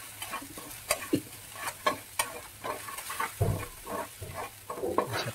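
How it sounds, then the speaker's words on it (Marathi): Soaked sabudana being stirred in a pan for khichdi makes soft repeated scraping and tapping strokes with a light sizzle underneath, fairly quiet and close. "आता याला छान आपण व्यवस्थित मिक्स करूया."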